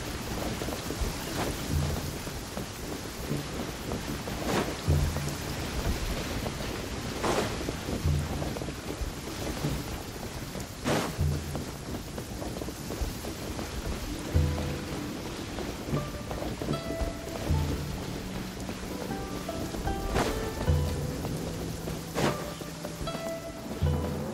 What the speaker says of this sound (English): sound of rain masks the enemy's footsteps.